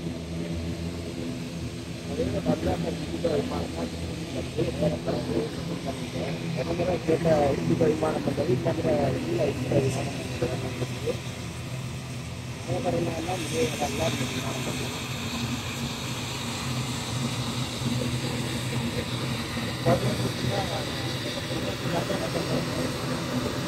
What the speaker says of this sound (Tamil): ஃப்ளைட் அவ்வளோ சத்தமாக இருக்குது.